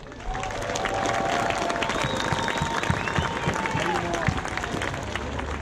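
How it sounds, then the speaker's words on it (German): Applause from an audience at a stage event, a steady crowd clapping texture lasting throughout, with some cheering and voices mixed in. "Einen großen Applaus"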